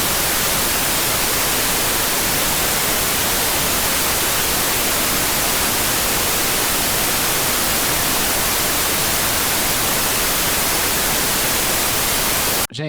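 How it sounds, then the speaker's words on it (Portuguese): Pink noise test signal played through a live sound system's PA speakers, a loud unbroken hiss across the full range lasting over twelve seconds before cutting off abruptly. "Vou pôr um pouquinho do ruído rosa para vocês escutarem."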